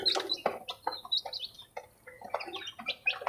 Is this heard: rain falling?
no